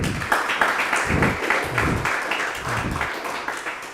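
A class of students claps in a steady, dense burst of applause that carries on throughout, fairly loud and close, with a faint voice underneath.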